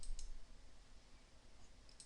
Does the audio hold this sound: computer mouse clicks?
yes